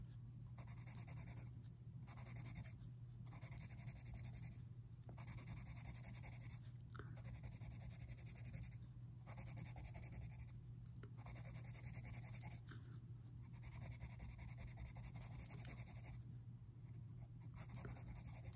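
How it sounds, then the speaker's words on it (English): Colored pencil strokes on paper while coloring a mandala, a steady close scratching in repeated bursts with short pauses between them, soft and continuous, with a faint low hum underneath and no talking. "So when I'm using this, I'm going to try to turn the pencil so we can get the whole effect."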